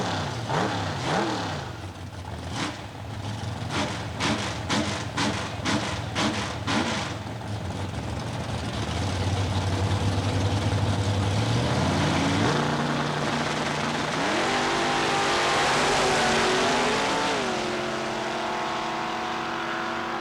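Chevrolet Camaro drag racing car at a dragway, engines roaring loudly through a pass with rising and shifting revs, a sustained powerful drone building toward the end.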